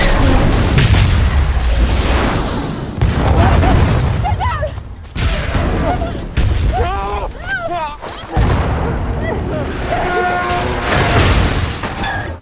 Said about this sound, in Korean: 탐사선이 폭발하게 됩니다.